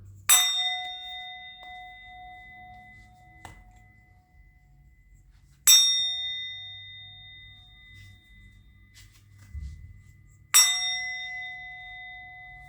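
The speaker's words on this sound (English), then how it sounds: "I'm going to ring the bell" A bell struck three times at slow, even intervals, each a bright metallic clang that rings on with a long, clear decaying tone in an otherwise quiet room.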